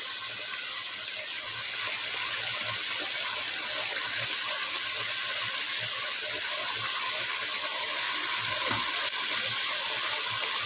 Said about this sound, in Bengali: এখন দিয়ে দিচ্ছি আমি মরিচ